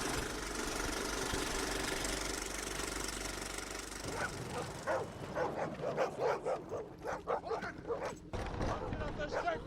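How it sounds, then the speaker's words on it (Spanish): Several dogs barking in a dramatized scene of a train arriving at Auschwitz, a burst of sharp repeated barks and yips following a steady rumbling, engine-like noise, with voices mixed in. "ladridos de perros"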